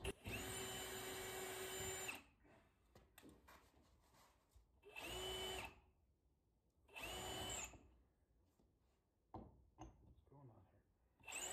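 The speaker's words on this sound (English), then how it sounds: "Probably should just switch over to torque drill and torque screws." A power drill drives screws into a large antique apothecary cabinet in several bursts of about two seconds each, separated by quieter stretches with faint handling noises and low talk.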